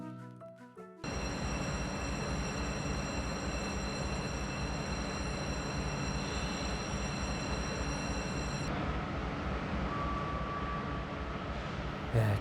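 The international passenger train from Dandong station in China toward Sinuiju and Pyongyang, a steady heavy rumble of wheels and carriage noise with high tonal whine running throughout, after a short quieter opening moment.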